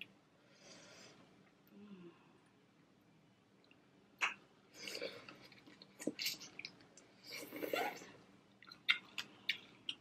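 Close-up crunchy chewing with scattered sharp cracks and wet smacks, coming in irregular bursts between quiet pauses.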